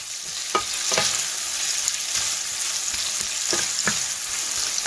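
King prawn curry with thick sauce sizzles loudly in a hot wok as it is flash-fried Chinese takeaway style, a steady dense hiss broken by several sharp scraping stirs, close up with no voices.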